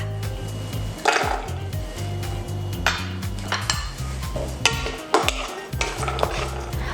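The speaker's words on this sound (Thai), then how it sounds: "เดี๋ยวเราจะใส่กระเทียมลงไปคั่วพร้อมกันเลยค่ะ" Galangal and garlic are dry-roasted in a pan over medium heat, with a spatula repeatedly scraping and clinking against the metal in an uneven rhythm, close and fairly loud, with barely any sizzle.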